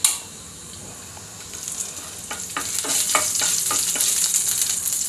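Finely chopped garlic sizzles in hot tempering oil for a chutney, a bright crackling hiss that swells midway with a burst of quick popping spits, close and steady, with no talking.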